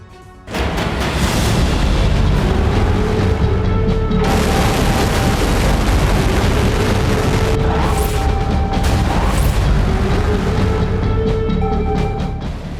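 A North Korean ballistic missile launch roars as a sustained, loud, broadband blast that swells suddenly and rumbles on for over ten seconds with crackling and tonal whines layered in, without any voices.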